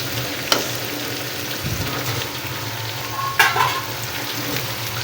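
Sliced okra (bhindi) frying in oil in a home kitchen pan, a steady soft sizzle with occasional clinks of a spatula stirring, no voices.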